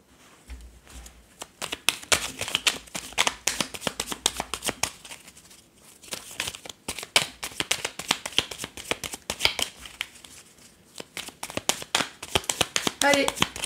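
Tarot or playing cards are shuffled for a card reading, a long run of quick, close riffling and flicking bursts in uneven rhythm, with a voice talking over them.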